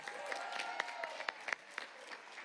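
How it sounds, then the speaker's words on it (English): Scattered clapping from a small audience at a Guyanese heritage reception, fairly faint, with a few sharper individual claps standing out. "Please give him a round of applause."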